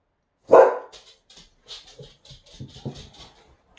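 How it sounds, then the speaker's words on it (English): A dog barks loudly once, followed by several softer, shorter barks and whimpers at close range. "Don't mean for my dog to be barking in the background."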